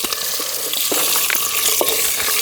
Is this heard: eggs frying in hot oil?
yes